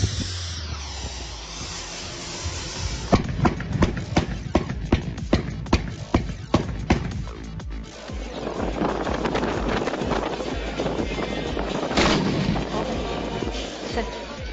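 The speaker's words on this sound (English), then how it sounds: "Thousands of people from across the country gather here to explode carbide using special cannons" Carbide cannons at a New Year's Eve festival in the Netherlands firing a run of sharp booming blasts, some close and some farther off, over a windy crowd wash, with a louder bang near the end.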